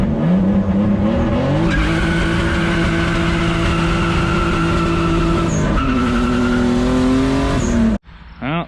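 A turbocharged BMW E36 drifts on a track, its engine roaring hard and steady while tires squeal and skid continuously, loud and close, before the noise cuts off abruptly near the end.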